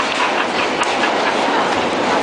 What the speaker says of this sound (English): Oh yeah, the F train.